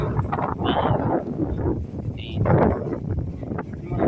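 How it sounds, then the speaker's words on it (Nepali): Seaside wind in Japan at 5 a.m. rumbles across the microphone in irregular gusts, with brief faint chirps and low background sounds but no clear talking. "हावा कस्तो मजाले चलिरहेको छ"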